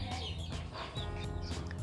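Five two-month-old chickens cluck and chirp in a simple homemade backyard coop, with a dense run of overlapping close calls and no talk.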